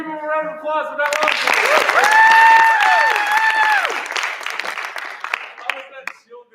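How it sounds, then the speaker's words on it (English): Applause and cheering from a live show audience, rising over the first seconds and holding loud before tapering off, with a few voices and whoops mixed into the clapping. "Can we give him a round of applause for that one?"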